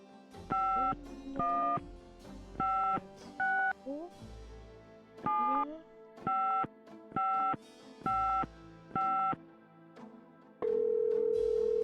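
A telephone in the Gabriel Knight adventure game dials 011 and then a number, a series of evenly paced touch-tone beeps with a lower voice murmuring between some of them, ending in a steady tone.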